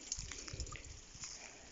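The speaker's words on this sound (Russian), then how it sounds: "Смотрите, вот тут это родник." A forest spring gives a soft, faint trickle of water, with gentle continuous dribbling and a few light drips, heard close and quiet with no voices.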